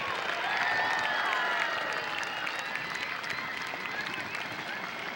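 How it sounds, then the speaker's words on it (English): An audience cheers and applauds for an introduced guest, with sustained clapping and shouted cheers and voices mixed in the crowd noise. "Give him a cheer"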